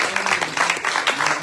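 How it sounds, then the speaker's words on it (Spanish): A short burst of audience applause at a church Bible study, scattered hands clapping quickly for about a second and a half. "demos un aplauso al Señor."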